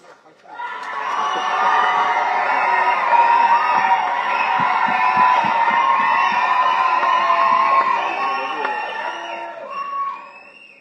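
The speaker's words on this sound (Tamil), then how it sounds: "பேரை சொல்லாமலே இவ்வளவு கைத்தட்டலாம்" Stage event audience cheering and clapping in a sustained, loud wave of crowd noise with whoops, swelling quickly and fading after about ten seconds.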